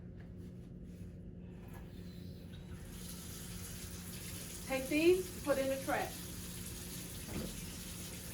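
Tap water running into a basin at a sink during a nursing-skills peri care demonstration; a steady, moderate rush of flow begins partway through and continues while someone speaks briefly over it.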